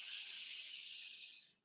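A long, deep exhale pushed out through the mouth, a soft, airy, steady hiss lasting over a second before tapering off, close and quiet with nothing else around it.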